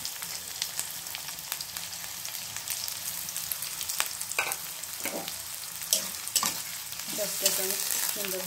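Goat tripe fries with chopped onion and chili in a pan, a constant close sizzle broken by clicks and scrapes of stirring.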